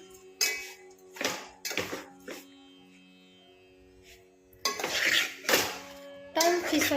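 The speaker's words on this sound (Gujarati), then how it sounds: "પછી આવી રીતના હલાવી નાખવાનું." A spoon scrapes and clinks against a pan while bottle gourd muthia mixture is stirred, in short bursts of metallic scraping separated by quieter pauses with a faint steady kitchen hum.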